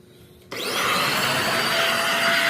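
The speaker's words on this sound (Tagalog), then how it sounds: "kailangan vacuum talagang kailangan dito" A household vacuum cleaner, used for a cleanup a broom can't manage, switches on after half a second of near silence. Its loud, steady whine and airflow roar then run without a break.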